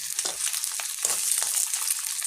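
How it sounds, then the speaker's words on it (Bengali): Eggs frying in a pan ahead of a Bengali egg and potato curry, a steady close hiss and sizzle with faint crackles throughout. "ডিমটাকে আমি আগে একটু ভেজে নিচ্ছি।"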